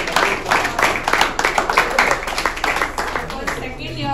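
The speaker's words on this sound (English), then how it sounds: "let's have a huge round of applause for Prasanna" Loud, dense applause and rapid clapping from a crowd at a full-house college meet for Prasanna, sustained for several seconds with voices and cheers mixed in.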